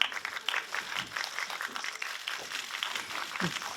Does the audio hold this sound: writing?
no